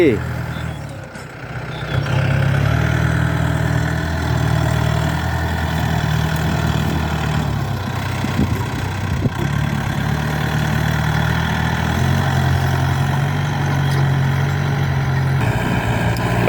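A Yanmar YM357A tractor's 3,054 cc vertical-cylinder diesel engine idling steadily nearby, a low continuous rumble that holds the same pitch throughout, with someone talking over it much of the time.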